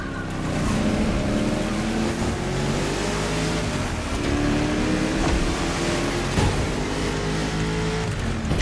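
Engine of a 1969 Ford Mustang Boss 429 muscle car roars loudly and continuously as it accelerates and revs, its pitch rising in sweeps over a dense, steady rumble in a racing game.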